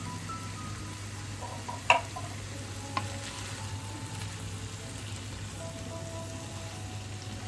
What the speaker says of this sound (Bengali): হালকা হাতে নাড়াচাড়া করে দিলেই আমাদের হানি চিকেন রেডি হয়ে গেল